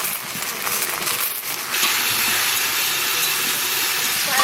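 Okra with salt and turmeric frying in a pan, a soft sound at first that turns into a steady, loud hiss of sizzling after about two seconds and continues without voices.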